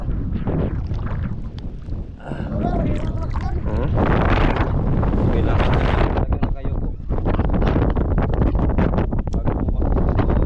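Gusty wind from a typhoon buffeting the microphone in loud rumbling blasts, with a person talking over it and water sounds faintly in the background.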